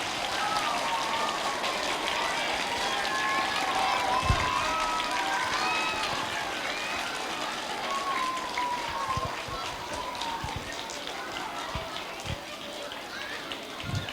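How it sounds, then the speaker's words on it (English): An elementary school audience at a town hall meeting gives a steady, diffuse round of applause that blends into continuous patter for a sustained stretch. "can we give an important round of applause to our first Citizens of the Month?"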